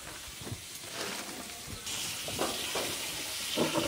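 Food dropped into hot oil and frying, a soft steady sizzle that swells partway through, with a few faint clinks and pops, fairly quiet and with no talking.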